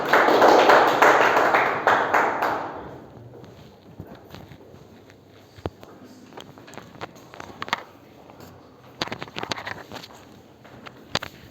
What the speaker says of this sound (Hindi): तो जोरदार तालियों से स्वागत करिए हमारे माननीय डीपी तिवारी जी का